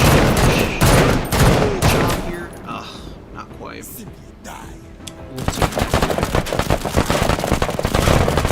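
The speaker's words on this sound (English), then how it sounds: "Accurate fire for a pirate unit." Pirate unit firing in a Total War battle, dense rattling volleys of gunfire crackling loud and close, a brief lull with scattered thuds in the middle, then a renewed rapid barrage of shots; a voice talks over parts of it.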